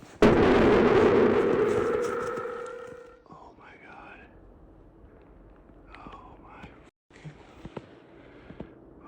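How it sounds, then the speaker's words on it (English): A single loud hunting rifle shot fired in the Maine big woods during a deer hunt, a sharp close blast with a long rumbling decay lasting about three seconds, followed by quiet woodland ambience and faint whispering. "At about 10:20 that morning, I fired my first shot."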